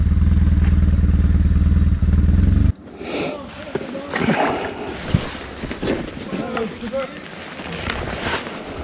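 A motorcycle engine idles with a steady low throb for the first few seconds, then cuts off abruptly, leaving wind buffeting and someone speaking over the outdoor noise.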